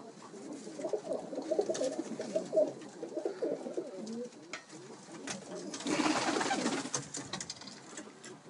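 A crowd of pigeons coos in a dense, continuous low warble, close and fairly loud, with a brief dip before a brighter burst of noise near the end; faint human sounds may sit beneath.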